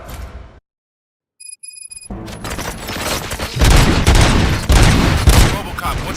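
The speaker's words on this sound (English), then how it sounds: "Gunshots?" Rapid bursts of gunfire in the video game Robocop: Rogue City, loud and continuous after a brief silence and a short electronic tone, with heavy booming layers.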